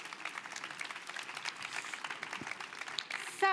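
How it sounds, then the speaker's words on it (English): Faint, distant applause from a conference session audience. Steady soft clapping continues throughout, and a brief bright tone cuts in at the very end. "A round of applause for our speakers"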